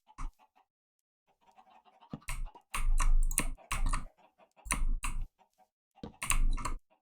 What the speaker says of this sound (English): you could probably hear some chickens in the background